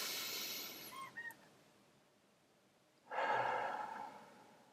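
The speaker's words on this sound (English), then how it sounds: "Take a deep breath." A slow, deep breath, with a soft exhale tapering off and then a fuller, breathy inhale, quiet and close during a guided calming exercise.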